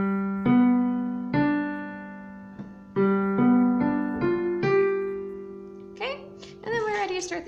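Piano plays the introduction of Yankee Doodle with the sustain pedal down, a series of struck chords and notes ringing into one another, close and clear, with busier higher notes near the end.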